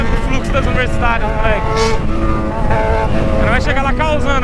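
Car engine driving, a loud revving drone with rising and falling harmonic pitch, heard close up with voices talking over it.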